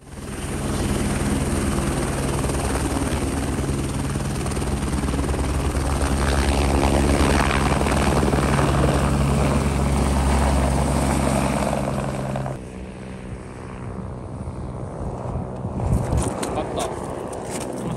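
A helicopter's loud, steady rotor and engine roar fills the first twelve seconds, then drops away as it departs, leaving fainter engine rumble with voices talking nearby, at an Antarctic research station.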